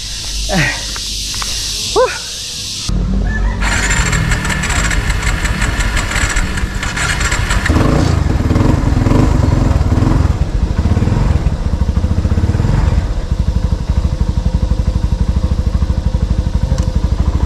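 A motorcycle engine idles to warm up, starting after a brief spoken exchange and then running as a loud, steady close putter that grows slightly stronger partway through.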